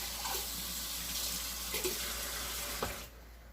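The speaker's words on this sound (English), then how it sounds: "pour our milk egg batter" Milk and egg batter poured into a bowl of flour for manicotti crepes, a steady liquid stream running under a constant watery hiss, with a few soft splashes and clinks before it cuts off near the end.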